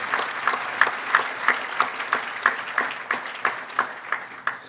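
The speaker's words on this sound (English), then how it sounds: "So if you join me in a round of applause for Midshipman." At an ethics essay award dinner, the room breaks into applause that settles into rhythmic, evenly spaced clapping, steady pulses repeating roughly three times a second.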